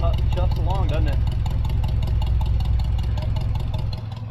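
A 1965 Chevrolet Suburban engine idling, a loud, steady low rumble with an even rhythmic chuff, close up, with someone speaking briefly over it near the start.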